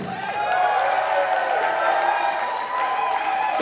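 Crowd at a rock show in Denver applauding a band, a dense sustained roar of clapping and cheering with a ringing tone running under it, fairly loud throughout.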